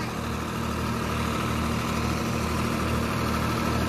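Swaraj 744 FE tractor engine running steadily at around 1600 RPM, a continuous low rumbling drone with even hum and vibration, close by and uninterrupted, no talk.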